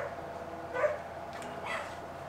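Dogs bark faintly in the distance, two or three soft muffled barks over a low steady indoor hum.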